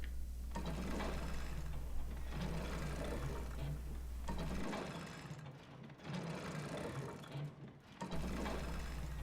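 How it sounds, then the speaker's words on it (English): A square crank turns to raise a shutter door in Resident Evil 2 Remake, giving a steady ratcheting, gear-grinding clatter. It repeats in several rhythmic bursts over a low drone, without talk. "we're going to use the square crank on the right side here. Open up the shutter door"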